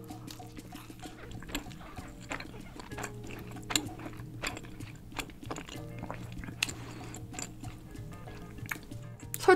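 Rasgulla, a spongy Indian syrup dessert, is chewed close to the microphone with soft, repeated squishy, wet bites and no talking.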